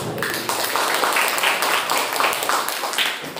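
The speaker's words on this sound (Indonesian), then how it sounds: "tepuk tangan buat guru-guru yang hebat hari" Applause for teachers at a pesantren event, a steady burst of many hands clapping together from a crowd, sustained and fairly loud before tapering off.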